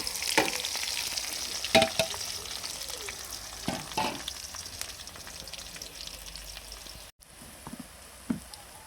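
Onions frying in a pan give a soft continuous sizzle, broken by a few sharp scraping stirs of a utensil against the pan.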